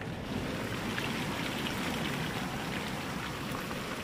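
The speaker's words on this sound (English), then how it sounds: "Just started raining again real hard." Heavy rain falling on an RV at an RV park, a dense steady drumming hiss on the roof with no break, close and continuous.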